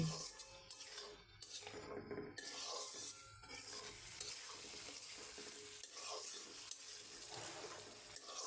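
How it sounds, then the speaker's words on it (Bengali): Potatoes added to a spice masala for a tengra and puti fish curry, stirred and frying steadily in the pan with continuous scraping and sizzle throughout, no talk. "এবার আলু দিয়ে দিলাম আলুটা দিয়ে সুন্দর করে কষিয়ে নিচ্ছি"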